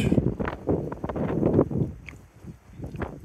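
Gusty coastal wind buffets the microphone in uneven bursts, loud at first, easing briefly, then rising again.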